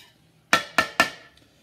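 A knife used as a whisk to beat ingredients in a bowl for peppered rib-eye stroganoff, three quick, sharp, close clinks in a row, then quiet.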